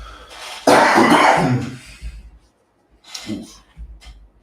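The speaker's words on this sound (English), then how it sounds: "I need to cough." A single loud cough bursts out close by, followed by a quieter breathy throat sound and a brief exhale.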